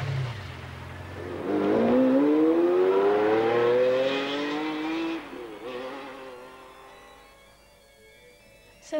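McLaren F1 road car engine revving loudly, its pitch climbing steadily through the gears over several seconds and then easing off as the sound fades, with no talking.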